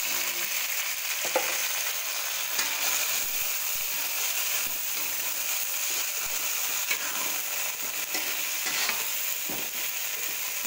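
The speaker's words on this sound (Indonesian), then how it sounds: "Ini saya lagi mau numis terong Ini sama kecambah" Eggplant and bean sprouts stir-frying in a pan, a steady close hiss of sizzling oil with occasional scrapes and clicks of stirring, continuous throughout with no voices.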